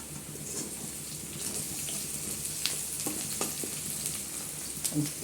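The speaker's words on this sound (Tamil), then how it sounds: "இந்த தாளிக்கிற நேரம் இதெல்லாம் கொஞ்சம் படப்படப்படன்னு பொறிஞ்சு விடாமல் கொஞ்சம் சீராக பொரியிற மாதிரி ஃப்ளேமை குறைச்சி நம்ம தாளிச்சுக்கணும்" Spices temper in hot oil over a lowered flame for a potato fry, giving a steady close sizzle with scattered small pops and crackles, and a few brief clinks near the end.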